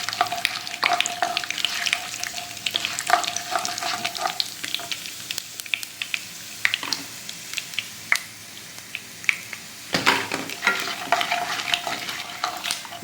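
Curry leaves frying and sizzling in hot oil for lemon rice, stirred with a spoon that scrapes and clatters against the pan in frequent short strokes, close and steady.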